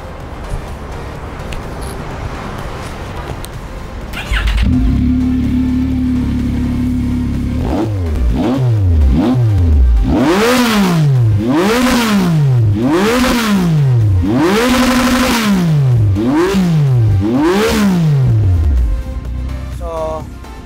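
A Yamaha MT-09 motorcycle engine idles steadily, then revs repeatedly in rising and falling bursts with a deep, growling exhaust, loud and close.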